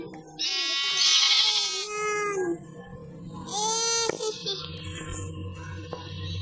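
A sheep bleats nearby in two long, wavering, high-pitched calls, with quieter farmyard background between them.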